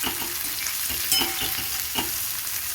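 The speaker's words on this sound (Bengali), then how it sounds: "এখন আমি কাঁচা লঙ্কাটাও দিয়ে দিলাম পেঁয়াজের সাথে পেঁয়াজটা হালকা হালকা ভাজা ভাজা করে নিয়ে" Onions and green chillies fry in a pan for a spicy tangra fish curry, giving a close, steady sizzle broken by repeated stirring scrapes.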